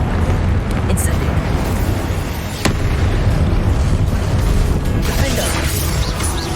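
The Incendio fire spell in Hogwarts Legacy goes off as a loud, roaring burst of flame, with crackles and pops over dense combat noise. A voice shouts during the cast.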